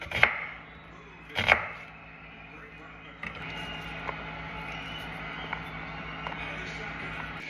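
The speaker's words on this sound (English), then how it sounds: "I'm gonna thinly slice some onion." Onion being thinly sliced with a knife on a board for a cucumber salad, two sharp loud chops early on, then a softer run of light cuts with faint taps under steady background noise.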